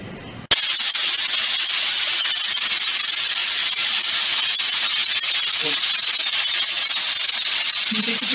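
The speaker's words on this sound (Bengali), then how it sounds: "পুরো স্টিমটা রিলিজ হওয়া অবধি আমাকে অপেক্ষা করতে হবে।" A pressure cooker on the stove lets out a loud, continuous hiss of escaping steam that starts abruptly and holds steady and close for several seconds, with a faint bump or two beneath it.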